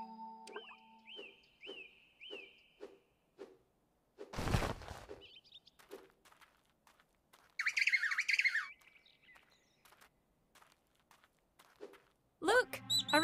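Short, repeated bird chirps with tweets and squawks from a mobile game, The Trail, spaced in a rhythmic series, with game sound effects and a brief noise burst between them.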